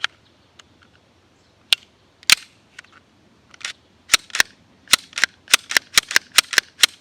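Sharp metallic clicks come from handling an S&W M&P Shield EZ pistol, scattered at first and then a quick, loud, close run of regular snaps.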